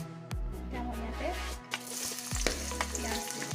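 Onion sizzles and fries in a pan alongside green peas and cabbage, a steady close hiss with a few sharp stirring knocks and scrapes against the pan.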